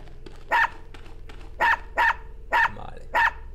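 A dog barks repeatedly in the platformer dungeon game Unepic, five loud close bow-wows in an uneven rhythm, each short and clipped, with faint low game tones in between.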